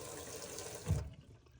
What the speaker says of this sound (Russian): Давайте по нашему обыкновению посмотрим напор воды.